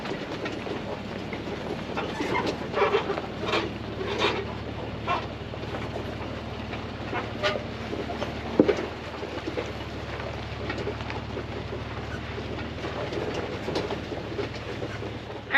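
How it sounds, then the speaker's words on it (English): A vehicle is towed in first gear over old railroad tracks, rumbling low and steady while its body rattles and clunks over uneven rails and ties in irregular bumps, with one sharp knock partway through. "we're being towed through it right now on the old tracks"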